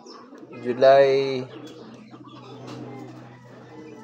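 Birds call outside, with one louder, close coo of a racing pigeon early on, followed by softer bird sounds. A person speaks briefly over them.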